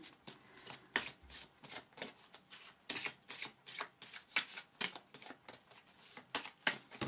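Tarot cards shuffled close up in a steady run of crisp riffling bursts, each a short papery flutter repeating every half second or so, with no voices.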